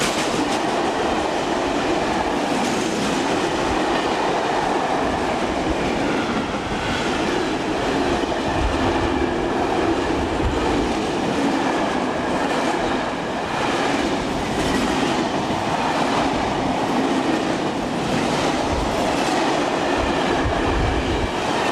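A locomotive heads a mixed freight train toward the marshalling yard at Lille La Délivrance, its wagons rumbling past in a loud, steady roll with rhythmic wheel clatter and faint squeals throughout, and no voices.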